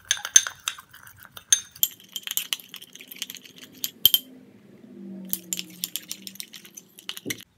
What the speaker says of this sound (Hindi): बिल्कुल थोड़ा सा रोज़ वाटर के साथ हम इसका पेस्ट बना लेंगे।